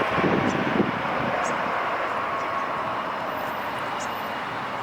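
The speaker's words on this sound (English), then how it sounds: "Little plane over here." Small airplane near LAX airport, a steady broadband engine drone close by, with wind noise over the microphone and no break in the sound.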